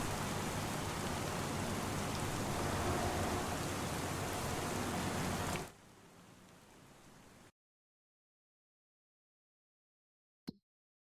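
Rain falls steadily in the Farming Simulator 25 farming game, a dense even hiss that holds for about five seconds, drops to a quieter wash, then cuts to silence before one brief click.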